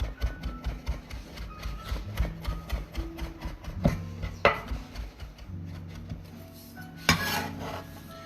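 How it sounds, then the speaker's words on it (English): Knife chopping bacon on a cutting board, a fast steady run of close, crisp taps with a few louder knocks, alone without talk. "So we're going to chop up a little bit of bacon now"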